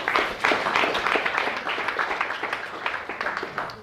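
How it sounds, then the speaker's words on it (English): An audience in a personal transformation class breaks into a round of applause, dense close clapping that rises at once and stays steady for several seconds before easing off slightly. "Give a big round of applause."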